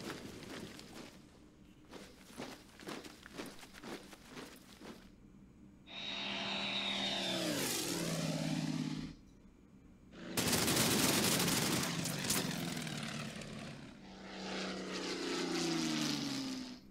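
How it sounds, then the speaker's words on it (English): Soviet propeller warplanes in a World War II strategy game make loud droning passes with rising and falling engine pitch, mixed with bursts of rapid gunfire and crackling shots. "Still plenty of Soviet planes."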